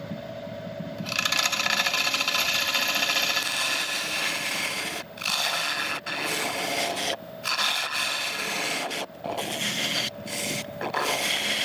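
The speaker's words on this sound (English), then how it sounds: "Firstly, I'm just going to sharpen up again," A woodturning tool is sharpened on a grinder, giving a continuous gritty rasping hiss broken by several brief pauses as the tool is lifted and repositioned.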